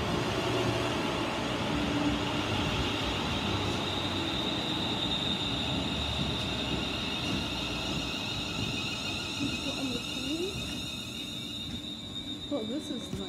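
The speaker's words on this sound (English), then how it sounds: "This train is for Glasgow Central." A passenger train bound for Glasgow Central rumbles steadily along the rails with a constant low roar and faint wheel squeal, heard from inside, with people talking over it.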